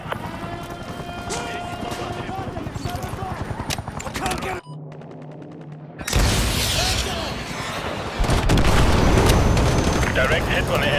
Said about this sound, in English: Direct hit on the enemy helo.